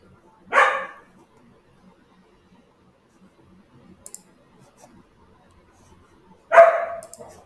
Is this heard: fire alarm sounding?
no